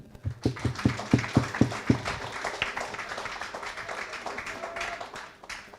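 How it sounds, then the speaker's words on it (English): An audience claps at a forum in a primary school courtyard, beginning with a run of loud, evenly spaced rhythmic claps. These then loosen into softer scattered applause and a low murmur. "You need to clap for that."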